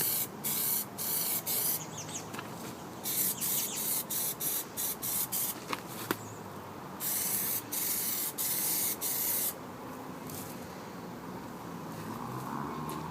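Plasti Dip rubber coating sprayed from an aerosol can onto a car for a fourth coat: a hissing spray in repeated short bursts with brief pauses, then a longer steady pass near the end, with no talking.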